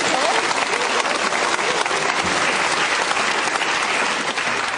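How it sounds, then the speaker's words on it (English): Sustained, dense applause from a theatre audience at a live interview event, loud and steady throughout with faint crowd voices mixed in. "A clap!"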